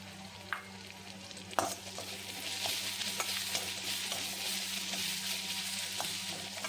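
Tempering spices fry in a pan while being stirred, giving a quiet, continuous sizzle with occasional scraping taps of the spoon, close and with no voices.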